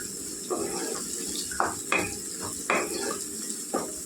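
Boneless chicken curry ingredients, onions and tomato, fry in a pan under a steady sizzle, with intermittent scraping stirs and clinks of a spoon against the pan.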